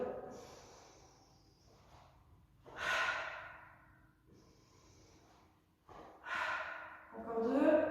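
Slow, forceful breaths from someone doing a seated Pilates rolling exercise, with soft airy exhales and sharper rushing bursts at a steady rhythm, close and fairly quiet.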